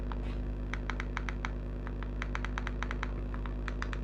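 Light, evenly spaced taps on a phone touchscreen keyboard, typing an app name into a Play Store search, each tap a small click over a constant electrical hum.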